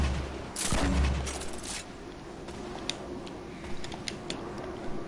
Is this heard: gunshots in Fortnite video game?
yes